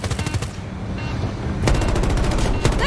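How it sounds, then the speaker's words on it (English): Automatic gunfire in Battlefield 2042, with rapid machine-gun bursts that are loud and close, pausing briefly and then resuming with renewed intensity. "They're shooting at us!"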